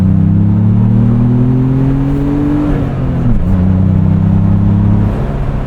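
2025 Ford Bronco Big Bend Sasquatch with a 7-speed manual accelerating in sport mode, a loud, steady engine drone rising in pitch, then dropping at a gear shift before pulling again.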